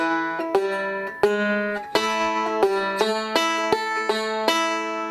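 Bright plucked banjo notes roll in quick, even patterns, with sharp picked attacks and a few sliding pitch changes, played alone and close.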